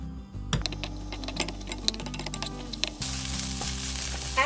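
Kimchi fried rice being stir-fried in a pan, rapid clicking spatula taps over a light sizzle, then a sudden louder burst of hissing frying toward the end, close and without speech.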